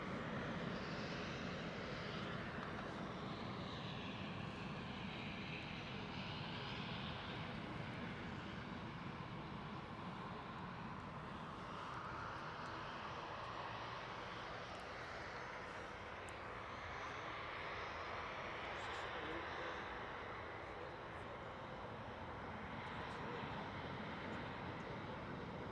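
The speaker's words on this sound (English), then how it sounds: "So we have a Loganair also on its way out, ATR 72." A Loganair ATR 72 turboprop departs, its steady engine drone and propeller roar holding broad and sustained at moderate distance, with a gentle swell and fade over the run.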